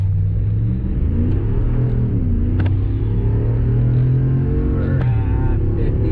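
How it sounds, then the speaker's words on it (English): Ram 1500 pickup with a 5.7L Hemi V8 on its stock air intake, heard from inside the cab while cruising: a steady low engine rumble and drone with faint whir, continuous and even throughout. "This is the stock engine right here."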